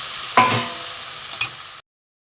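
Shrimp fries with eggplant, taro and potato in a pan, producing a loud close sizzle with two scraping stirs before cutting off into silence.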